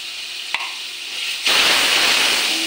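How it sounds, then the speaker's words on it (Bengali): Spice tempering for a tengra fish dish sizzles in hot oil with a faint clink at first. The frying then swells into a loud, steady hiss as it is stirred. "ফোড়নটা ভালো করে কষে নেব।"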